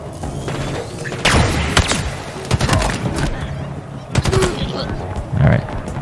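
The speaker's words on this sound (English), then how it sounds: "I know that elite is shooting me," Enemy gunfire in the video game Halo Infinite, with repeated bursts of shots and sharp blasts mixed with game sound effects over a busy, loud background.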